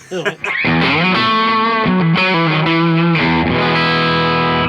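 Electric guitar through an overdriven Marshall Studio Classic SC20H valve amp, a loud, thick distorted run of notes settling into a sustained ringing chord, close and alone after a brief noise at the start.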